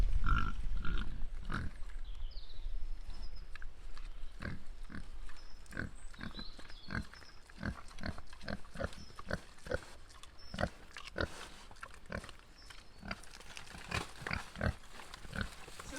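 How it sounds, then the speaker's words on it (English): Pigs on the Woodside farm on Arran grunt repeatedly outdoors. The grunts come in irregular short bursts at moderate loudness over a steady background and continue throughout. "We're going to show you lots of nice pig videos, so be prepared."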